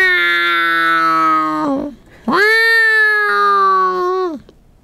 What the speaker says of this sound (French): En chaleur, mon chat.